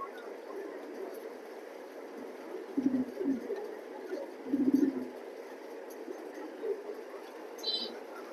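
Racing pigeons in a loft give a few short, low coos in two bursts near the middle, with faint room noise and scattered quieter sounds around them.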